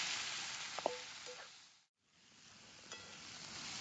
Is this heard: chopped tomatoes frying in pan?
yes